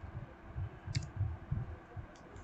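Computer keyboard being typed on to enter a command into a Windows command prompt; a short run of soft, close keystroke clicks in an uneven rhythm, quiet and alone.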